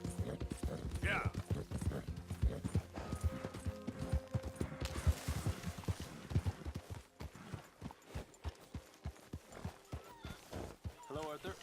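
Horse hooves clip-clop in Red Dead Redemption 2, a rhythmic clatter of steps close by with a brief whinny, under talking voices and game sounds.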